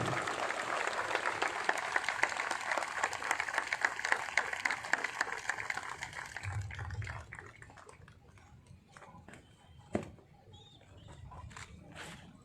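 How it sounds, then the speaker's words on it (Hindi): An outdoor crowd at a CRPF passing out parade in Mount Abu claps in dense, sustained applause for about six seconds, then it thins to scattered claps, with one sharp clap near the end. "दर्शकों से अनुरोध है वो कृपया तालियों की गड़गड़ाहट से उत्साहवर्धन करते रहे इन विजेता प्रशिक्षणार्थियों को"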